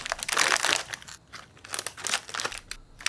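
Plastic snack bag being folded and creased, soft irregular crinkling and crackling close up, quiet and continuous with brief pauses between presses.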